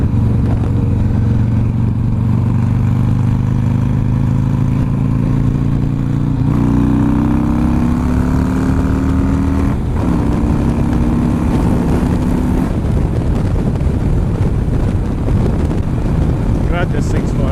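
Motorcycle riding down a road, its engine drone rising and falling through gear changes under heavy wind buffeting on the microphone, loud and close throughout, with a rider talking over it.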